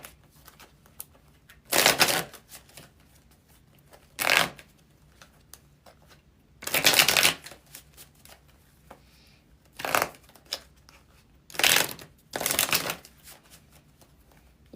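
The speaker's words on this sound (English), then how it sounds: "Let's pull some cards." A deck of tarot cards is shuffled in about seven separate bursts, each a short riffling flutter close to the listener, with quiet pauses between them.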